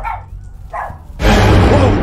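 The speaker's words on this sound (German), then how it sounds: "Wir müssen ihn immer so ein bisschen anbellen, wenn er bellt, damit er aufhört zu bellen." A dog in a horror video game gives two short, close barks, followed by a sudden loud burst of noise.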